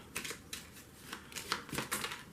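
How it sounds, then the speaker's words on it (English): A deck of playing cards for a tabletop board game being shuffled, with a quick series of soft riffling bursts, faint and close, no talking. "then we will shuffle these cards"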